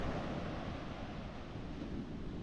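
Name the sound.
Atlantic Ocean waves on a beach in Portugal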